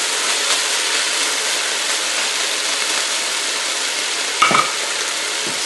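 Sugar snap peas and beef strips stir-frying in a pan, a steady close sizzle throughout, with a brief clink of a utensil near the end.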